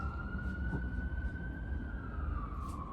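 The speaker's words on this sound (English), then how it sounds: "Peace be to wherever that ambulance is going to" Ambulance siren passing by, a steady wailing tone held across the clip over rumbling traffic noise, moderately distant and fading slightly at the end.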